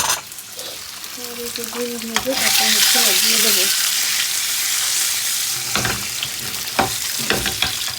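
Fish sizzles and crackles loudly in a hot pan, a steady frying hiss with sharp pops, while a brief tonal beep sounds early on.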